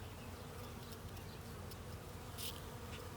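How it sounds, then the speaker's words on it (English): Honey bees buzzing around a beehive during a hive transfer, a steady close insect drone with a brief louder pass as one bee flies near, alone without talk. "Oh, there's one little bee. She's coming to say hi to me."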